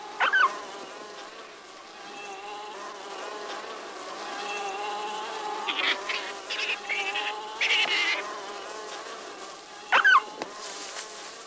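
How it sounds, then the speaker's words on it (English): A swarm of bees attacking a curious coyote pup and a skunk outdoors, a continuous insect buzz with louder bursts as individual bees fly close, no voices. "More and more bees boil from the hive."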